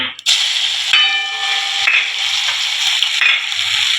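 Garlic-chili paste frying loudly in hot oil with crackled mustard seeds and cumin while cooking rasa patudi nu shak, a steady close sizzle with bursts of spattering and stirring scrapes throughout.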